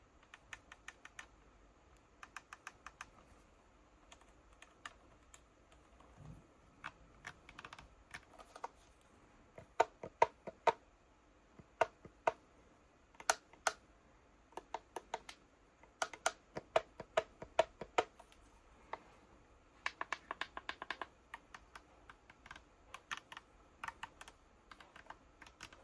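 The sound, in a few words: button clicks on MOZA KS Pro sim racing wheel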